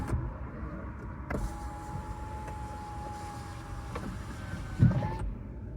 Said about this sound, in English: I could just start the car and close the windows